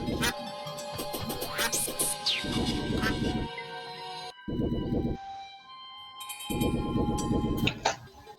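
Duck quacking inside a dungeon level of a video game, a few nasal calls sounding among blocks of game music and chiming effects, with a voice talking briefly.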